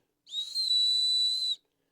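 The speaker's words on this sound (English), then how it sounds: "Oh, look, a whistle. Got a whistle built in." One shrill, high-pitched whistle blast from a small whistle built into a signal mirror, lasting just over a second, clean and steady, starting and stopping abruptly in silence.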